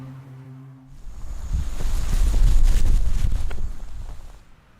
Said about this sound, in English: That's the sound of wind hitting everywhere